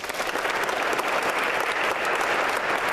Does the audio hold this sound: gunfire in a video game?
no